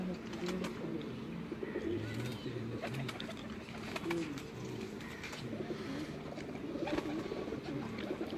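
Golden red-eyed pigeons on a rooftop coo in low, repeated soft bursts over steady background noise, with faint chirps mixed in throughout.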